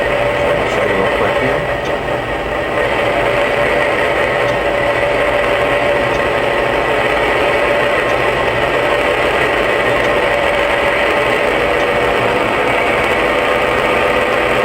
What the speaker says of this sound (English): And it also has the diesel RPM levels.